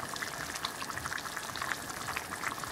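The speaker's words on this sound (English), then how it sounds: "let that basically poach in the broth" Barramundi pieces and bok choy poaching in a simmering laksa broth, giving a steady, close bubbling and sizzling hiss with soft irregular pops throughout, no voices.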